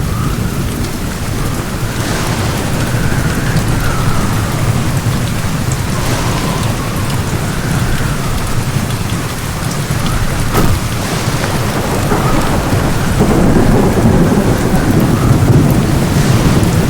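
Rain and thunder sound effects played during an Islamic elementary school's end-of-year performance, a steady loud downpour hiss with low rumbling thunder rolling throughout, with no talk.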